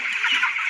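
Nineteen-day-old broiler chicks cheep and cluck in a continuous, busy chorus, a dense flock of high chirps sounding close and steady.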